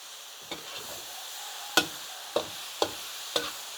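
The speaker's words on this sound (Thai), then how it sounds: "ผัดอย่างไวเลยค่ะ ผัดแห้งๆเลยค่ะ" Vegetables and sun-dried pork are stir-fried in a pan, with a soft sizzling hiss underneath and five sharp scraping strokes of a spatula at uneven intervals, close and clear.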